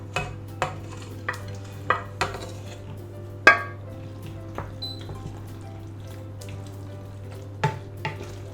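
A spoon works pasta through a cheese sauce for mac and cheese in a pot, giving sparse metallic clinks and scrapes, one sharper knock midway, over a low steady hum.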